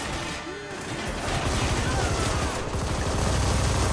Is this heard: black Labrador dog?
no